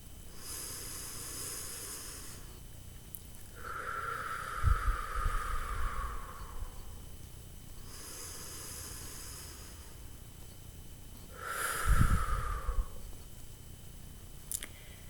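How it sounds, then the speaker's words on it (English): Deep, slow breathing: two long breath cycles, each an inhale through the nose and then a long, steady, airy exhale through pursed lips as if through a straw. It is close and soft, with a faint thump at each breath. "Exhale out your mouth like you're blowing out through a straw."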